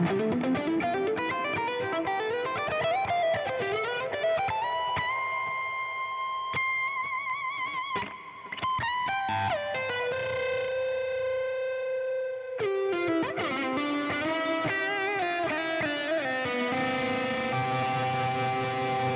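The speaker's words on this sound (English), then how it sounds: "Here's when you add some delay and some reverb, how you can really make it breathe." Electric guitar with heavy delay and reverb, run through a patch with three noise gates, rings out in long sustained, echoing notes and slides that swell and trail off, loud and continuous with no voices.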